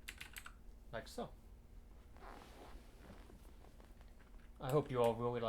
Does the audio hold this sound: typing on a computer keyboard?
yes